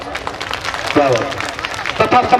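Audience clapping at a Sant Guru Ravidas birth anniversary ceremony in Phoolbagh, Kanpur, a dense crackle of many hands that swells slightly near the end while a voice speaks over it.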